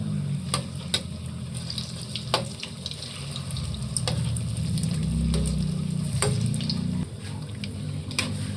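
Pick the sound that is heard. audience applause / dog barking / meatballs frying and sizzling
meatballs frying and sizzling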